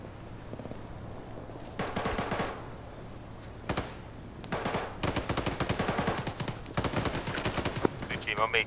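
Gunfire in the Arma 3 military shooter game: scattered single shots early, then dense bursts of rapid automatic fire from about 4.5 seconds on, crackling and loud against a low background hum.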